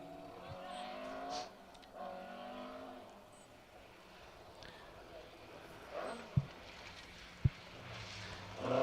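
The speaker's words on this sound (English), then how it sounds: "A bit of heel and toe and sling that rear end of that Mark II towards the trees from Roger Mark Fowler and Mick Johnson." A Mark II rally car on a Kielder Forest special stage is heard at a distance, its engine rising and falling through gear changes, with a couple of sharp knocks and a closer surge at the end.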